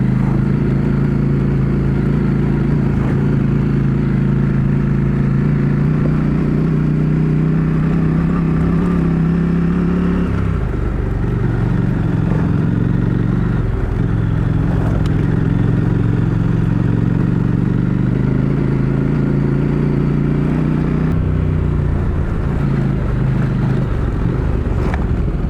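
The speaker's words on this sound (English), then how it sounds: "Like bikes coming." Loud, continuous engine roar from motorcycles on a two-night road ride in Northern NSW, with rising and falling engine tones as bikes pass and shift, steady and close throughout.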